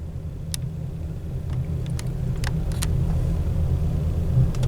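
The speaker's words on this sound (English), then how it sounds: "That's the Union Pacific again, this time with a big container load." A Union Pacific freight train hauling a big container load rolls past in the Cajon Pass, heard as a steady low rumble with faint scattered clicks and clanks over about five seconds.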